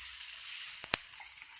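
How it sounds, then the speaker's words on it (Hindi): Green chilies, onion and chopped capsicum fry in a pan for pav bhaji, giving a steady bright hiss with two quick soft clatters near the middle, close and unbroken. "अब मैं इसमें शिमला मिर्च, बारीक कटी हुई शिमला मिर्च डालूंगी और इसे अच्छे से मिक्स कर लूँगी"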